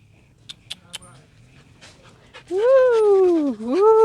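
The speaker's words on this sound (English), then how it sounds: "There's a friendly dog here." A friendly dog on a hike to Hog Island in Grenada starts with a few soft clicks and sniffs, then lets out a loud, rising-and-falling whimpering whine up close.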